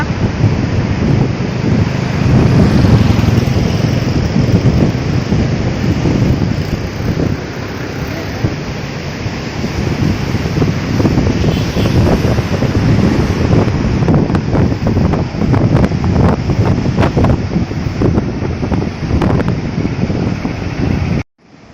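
Steady roar of sea surf behind Kunkeshwar temple on the Devgad coast, with strong wind buffeting the microphone, loud and continuous, the waves swelling and washing without pause.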